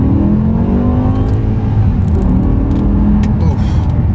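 BMW M6 with a V10 engine pulling under throttle without sport mode, a steady loud engine drone with rising harmonic tones as it accelerates, continuous and close throughout.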